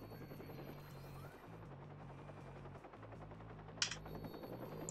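A helicopter hovers in Watch Dogs as a steady, throbbing rotor drone. It holds level throughout, with one sharp click near the end and no voices.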